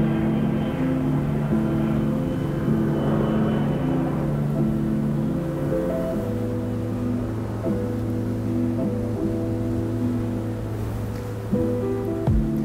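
Aircraft engines drone steadily overhead, a layered humming roar that shifts in pitch as planes pass, with no talking.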